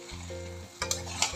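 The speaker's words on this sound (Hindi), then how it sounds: "बीच बीच में थोड़ा हिलाते रहेंगे, इसको बीच बीच में हिलाना है चिकन को, चलाते रहेंगे नहीं तो जल जाएगा हमारा चिकन।" Marinated chicken for chicken latpata sizzles in a pan, with a steady close fry and a few louder scraping stirs in the second half.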